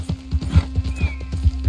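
Hooves galloping in Red Dead Redemption 2, a fast, close, heavy clip-clop rhythm of thuds with a brief whinny partway through and a steady low hum beneath.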